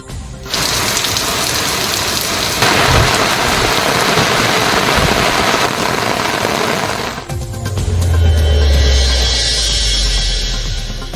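Heavy rain pours in Pattukkottai, Thanjavur district, Tamil Nadu, a loud, dense, continuous hiss that shifts abruptly partway through, with a deep low rumble joining in.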